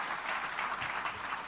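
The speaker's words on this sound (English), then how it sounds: "Put your hands together for Kabutar, guys." An audience at a startup showcase applauds a pitch on stage, a steady, dense burst of many hands clapping that stays loud and even for a moment, with no talking over it.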